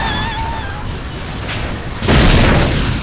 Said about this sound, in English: You hit the fire trail, it triggers the explosion, blows up those cars